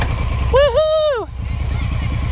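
A Suzuki M109R motorcycle idles unevenly with a steady low rumble that pulses slightly, while a brief voice-like rising and falling tone sounds over it partway through.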